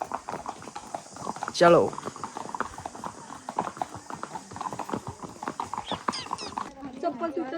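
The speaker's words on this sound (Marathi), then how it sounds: "आता आम्ही घोड्या बसलेलो" Horses ridden along a trail in Matheran, with steady hoof clip-clops under ongoing chatter; one horse gives a brief neigh, and people talk throughout.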